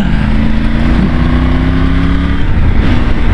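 Loud and close, a Triumph Tiger 900 GT adventure touring motorcycle engine revs and holds a strong, steady drone whose pitch climbs and then eases, heard alone without speech.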